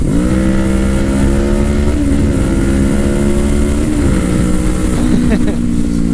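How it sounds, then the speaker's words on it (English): A Kawasaki Ninja motorcycle engine running close by, a loud, steady tone with a few short blips of throttle that shift its pitch, ending in a couple of quick revs. "Now I get to act like I'm revving it"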